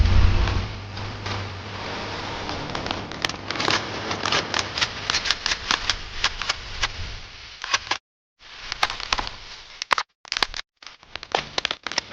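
A weapon being reloaded in the video game Bodycam: a quick run of crisp mechanical clicks, clacks and rattles, close and fairly loud, with short gaps between the handling noises.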